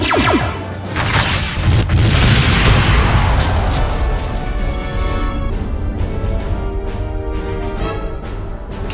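Heavy booming impacts of a starship's shields taking hits in a Star Trek space combat game, with dense, loud crashing blasts layered over a constant droning score.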